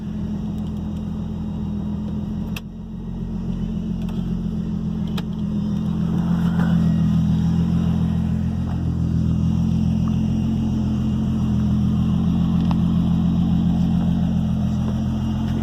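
A 1997 Mk3 Jetta with a turbocharged VR6 idles with a steady, close engine rumble, and a high Walbro high-pressure fuel pump whine runs faintly above it. Nobody speaks.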